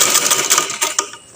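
A sewing machine stitches fabric during a home sewing lesson, a short busy rattling run that is close and fairly loud before tapering off.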